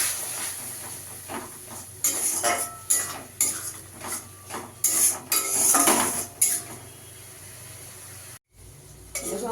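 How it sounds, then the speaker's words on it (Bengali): A metal spoon scrapes and clatters against a pan while masala with Kashmiri chili powder and a splash of water is stirred for a Shankar fish tel jhal, in repeated irregular bursts over a soft, constant sizzle. A brief silence falls near the end. "ভালো করে এবার কষিয়ে নিতে হবে"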